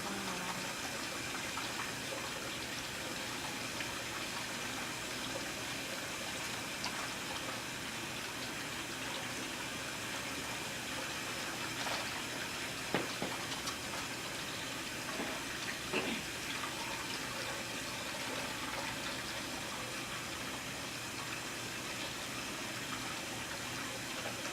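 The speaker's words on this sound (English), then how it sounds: "Just make sure when you're rinsing your hands, you rinse one at a time" Tap water runs steadily and evenly as hands are rinsed one at a time at a sink, a continuous close rush of flowing water with no talking.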